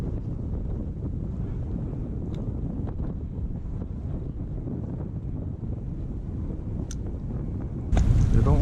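Crosswind buffeting a microphone on a fishing pier, a steady low rumble running the whole time with a few faint knocks, then a sharper, louder gust near the end.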